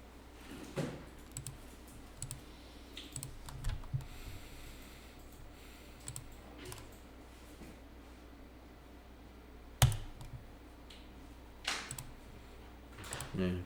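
Faint, scattered computer keyboard keystrokes and clicks sound during accounting software entry in a quiet room, with one sharper tap standing out among soft, irregular presses.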